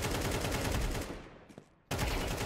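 Rapid bursts of video game gunfire, a dense automatic rattle that cuts off briefly into a fading tail, then resumes abruptly at full loudness, with no talk.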